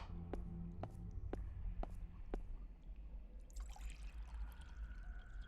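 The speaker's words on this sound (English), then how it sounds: "Fill pot with water." Running water fills a pot in the Excavation of Hob's Barrow video game, a faint steady pour and trickle over low background hum, with a few sharp ticks beforehand.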